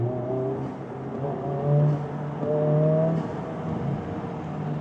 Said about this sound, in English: it gives you a lot of the whooshing sounds from the blow-off valve